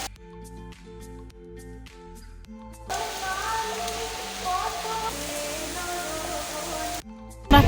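Heavy rain pours down in a dense, loud steady rush that starts suddenly partway through after a quieter stretch of other sounds, then cuts off near the end.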